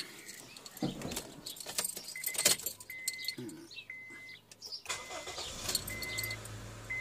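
A personal car's engine is started: keys jangle and clatter, then the starter cranks and the engine catches and settles into a low idle, close by, with no talk.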